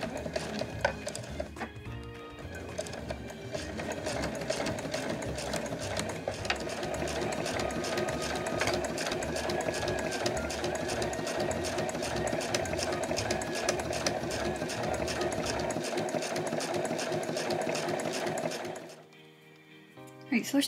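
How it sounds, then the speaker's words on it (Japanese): Sewing machine stitching a small card case, beginning with a back-stitch, a rapid steady mechanical needle rhythm running close and continuously, then stopping near the end, with a voice talking quietly under it. "それでは返し縫いからスタートしましょう。"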